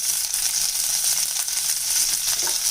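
Steady, close sizzling of large onions frying in a hot pan for mint chutney, a continuous bright crackle with no talking.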